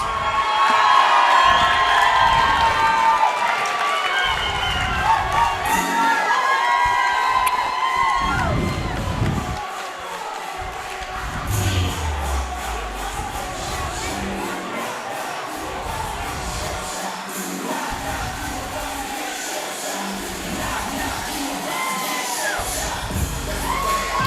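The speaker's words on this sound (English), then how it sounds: "Let's hear it for Cara Guitierrez." A large crowd at a Muay Thai fight event cheers and shouts continuously, loud and sustained, with excited whoops rising over a steady roar of applause.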